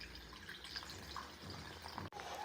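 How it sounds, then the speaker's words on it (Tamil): Water trickles and splashes steadily into a bowl of rice flour and salt batter for dosa, a continuous close liquid pour with a brief break near the end. "தண்ணி ஊற்றிடுங்க."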